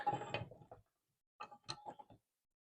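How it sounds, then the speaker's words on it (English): A wrench snugs a threaded fitting on a DIY pipe pull-up bar, giving a burst of close metallic clicking and scraping, then a short pause and a few more quick ratchet-like clicks. "We can just put the 1 wrench on here and then snug her up"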